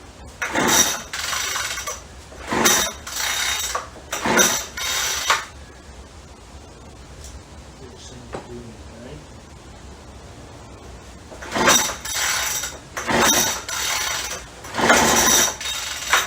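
A Craftsman B2000 string trimmer with a crankcase leak is pull-started with the choke on, giving a run of sharp, loud cord-yank bursts in quick succession, then a quiet pause, then another cluster of pulls without the engine catching.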